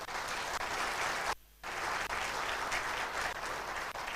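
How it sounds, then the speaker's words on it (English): An audience at an HR conclave panel discussion breaks into a big round of applause, with dense, sustained clapping that drops out for a moment in a brief gap before resuming strongly. "So a big round of applause for everyone."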